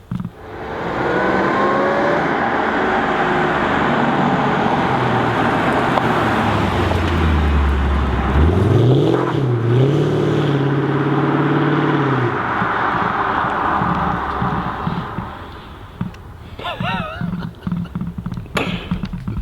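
A Mercedes AMG drives past on a remote country road, its engine roar building loudly, peaking with a rising rev as it passes close by, then trailing off into the distance.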